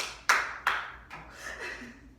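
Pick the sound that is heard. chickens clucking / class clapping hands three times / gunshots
class clapping hands three times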